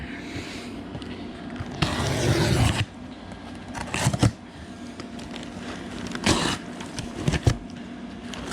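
A Stoptech sport slotted rear brake kit box for an EVO X is opened up close, giving rustling, scraping and crackling of cardboard and packaging in a few louder bursts between quieter handling.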